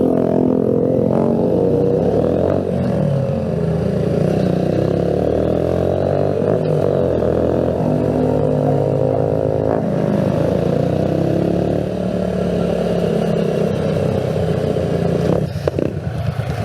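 A Euro Keeway Cafe Racer 152 motorcycle engine runs loud and close, revving up and down through steady throttle swells with a mechanical clatter, no talking.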